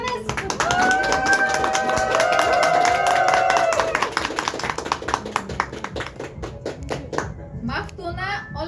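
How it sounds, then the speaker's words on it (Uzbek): An audience at a prize-winner announcement claps in a sustained round of applause. Voices and cheering carry through the crowd over the clapping. "Olqishlab turamiz."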